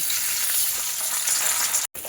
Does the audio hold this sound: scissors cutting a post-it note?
no